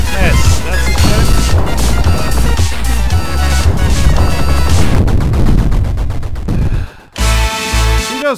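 A large barrage of fire in the video game Luftrausers roars as continuous, loud, rapid shooting with booming low rumbles, briefly cutting out near the end before resuming, while a voice talks over it.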